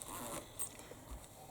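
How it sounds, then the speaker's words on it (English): Fabric zipper on a sewn flip clutch wallet being pulled open from left to right, a faint, short rasping zip lasting about a second and a half in a quiet room. "you're pulling the zip from left to right to open"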